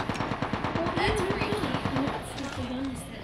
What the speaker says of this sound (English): someone shot me